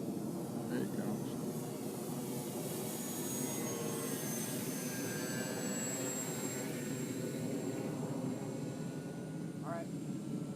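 A Multiplex FunCub RC airplane flies over the Gooney Birds RC field in South Carolina, giving a steady, continuous engine drone that holds at an even loudness throughout against broad outdoor noise.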